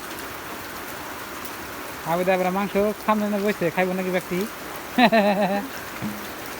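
Steady rain falls and patters continuously in the background while people talk nearby in the foreground.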